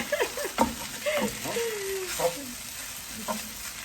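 Chicken fried rice with riceberry rice sizzles and crackles in a hot pan with scraping stirs and faint voices in the background.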